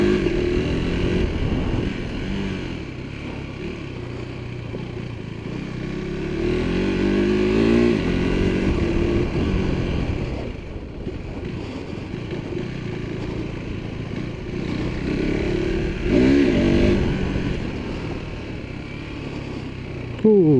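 KTM 390 Adventure motorcycle with its LC4 single-cylinder engine out on a ride, a steady close engine drone that rises in a few revving surges over continuous wind and road rumble.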